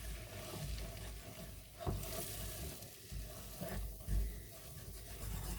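Flour toasts in hot oil in a pan for a Turkish chocolate and tahini pudding, a steady soft sizzle with occasional stirring scrapes, close and fairly quiet.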